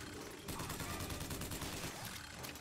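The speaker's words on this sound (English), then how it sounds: "Eat my minigun" Minigun fire in the video game BioShock Infinite, a continuous rapid rattle of shots that starts abruptly and keeps roaring loud and dense with no break to the end.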